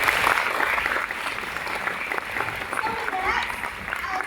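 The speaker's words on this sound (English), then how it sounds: "Shall we give that a round of applause?" An audience applauds, a dense wash of clapping that holds steady and then tapers slightly, with faint voices mixed in.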